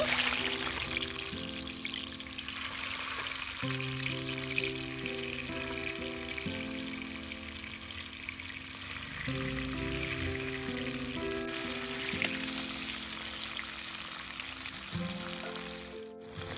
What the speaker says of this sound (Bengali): আমি এবার এক এক করে মাছগুলো ভেজে নেব